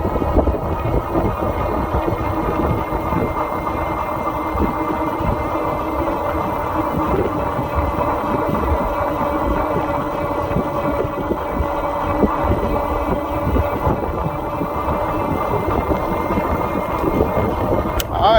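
A Favoto Flurry all-terrain electric bike climbs a steep hill on throttle alone, its motor holding a steady low throbbing hum under constant wind and road noise, with no talking.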